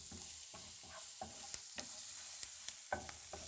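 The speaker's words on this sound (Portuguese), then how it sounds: "tô colocando aqui, é para refogar um pouquinho, para poder dar o gosto na chapa" Onion and other vegetables sauté on a hot griddle, a soft steady sizzle broken by repeated scraping strokes of a spatula and a few sharp taps against the metal, close and fairly quiet with no talking.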